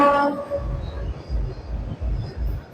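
A train passes a level crossing in a village during a wedding procession, its horn sounding briefly at the start before rhythmic low rumbling of wheels and cars rolls by close and loud.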